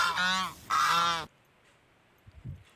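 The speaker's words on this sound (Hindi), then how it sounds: "DUCK, duck. इसे हिंदी में बतख कहते हैं।" Waterfowl calling twice in loud, harsh honking bursts, close up, followed by near silence with a few faint low thumps.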